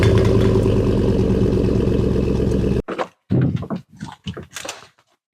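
A Chevy Tahoe idles with a steady, low rumble through a custom catback exhaust: a 2 3/4-inch tube into 3-inch tube, a 4-inch glass pack, then 3-inch tube to the tip. The rumble cuts off abruptly, followed by a few scattered clunks.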